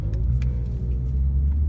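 Lexus RCF fitted with headers and an aftermarket exhaust, a deep steady engine rumble at idle or light throttle, close and loud throughout, no voices.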